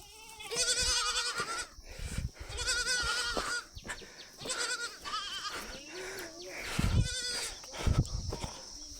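Several goats bleat repeatedly, loud and close, their wavering calls overlapping with brief rustling and footsteps in between.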